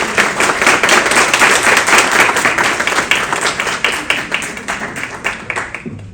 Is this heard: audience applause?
yes